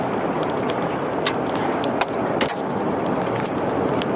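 A tornado roars through trees as a steady, dense rushing noise like a jet engine, loud and continuous with occasional cracks and thuds of debris.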